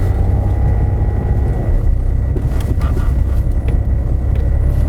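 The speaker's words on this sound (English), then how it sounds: "This is in fact a Citroen Xantia V6." A Citroen Xantia V6 drives along, its engine producing a steady, continuous low drone with road and cabin noise at constant loudness and no talking.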